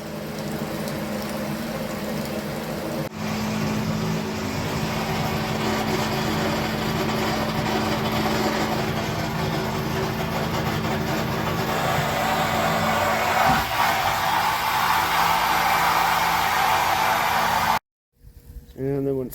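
A boat bilge pump drones steadily for a long stretch, a constant whirring hum with a watery churn, cutting out briefly near the end.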